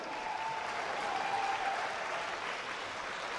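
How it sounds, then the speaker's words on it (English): A crowd at a kickboxing event applauds the two fighters with a sustained, even wash of clapping and faint cheers, loud and unbroken throughout. "A round of applause for these two fighters."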